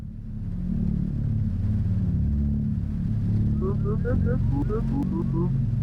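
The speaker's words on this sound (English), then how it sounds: "There's a storm approaching." Storm approaching in the horror video game Mothered: a steady, heavy low rumble that swells and holds, with a faint patter of brighter tones over it in the second half.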